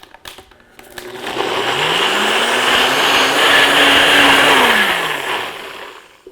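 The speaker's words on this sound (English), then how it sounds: "we'll push this down, which will start the motor, and we'll let it blend for about a minute or until smooth" A countertop blender motor whirs up, holds a loud steady grinding whine while pureeing frozen mango, pineapple, lime and Greek yogurt, then winds down over about six seconds.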